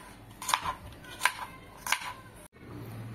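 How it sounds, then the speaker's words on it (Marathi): A knife chops okra on a board in three sharp, evenly spaced cuts, quiet and close, with a soft background hum. "तर ही भेंडी मी आता चिरून घेणार आहे।"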